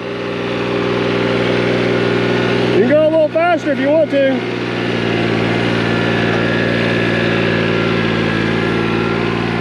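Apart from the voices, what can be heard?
small lawn tractor engine idling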